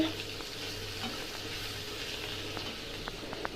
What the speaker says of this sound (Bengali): উচ্ছে দিয়ে লাউয়ের চোখলা ভাজা হচ্ছে